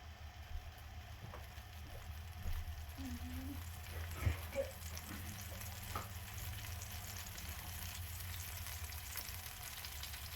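Cooked rice frying in oil in a pan for Spanish rice, a quiet, steady sizzle with faint scattered stirring clicks throughout.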